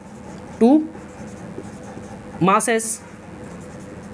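Chalk or marker writing on a classroom board during a physics lesson, faint scratchy strokes running under a teacher's short bursts of speech.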